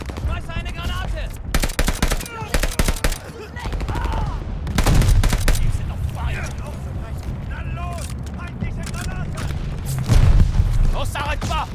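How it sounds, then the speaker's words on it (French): Enemy machine gun fire crackles in Call of Duty Vanguard, rapid bursts and booming explosions in a chaotic battle scene, with soldiers shouting over the gunfire throughout. "Mitrailleuse ennemie."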